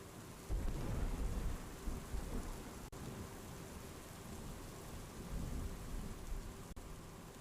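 Heavy monsoon rain pours steadily during flooding in Navsari, South Gujarat, with deep rumbles of thunder rolling through, loud and close, no voices.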